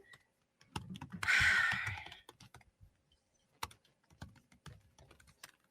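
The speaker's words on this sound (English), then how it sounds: "you're gonna hear a lot of me typing and not speaking" Typing on a computer keyboard, close and fairly quiet, with irregular key clicks in short bursts and a brief louder rustle in between, with no talking.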